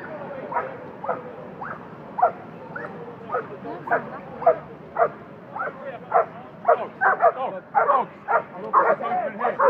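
A dog at a street protest in Parliament Square, London, barking and yipping repeatedly in short bursts, fairly close, the barks growing more frequent toward the end, with faint voices in the background.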